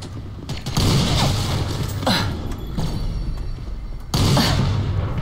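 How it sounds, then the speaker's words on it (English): Grenade blasts and gunfire boom in a video game, several loud bursts spaced a second or two apart over a rumbling battle din, with heavy hits near the start, middle and end. "Grenade!"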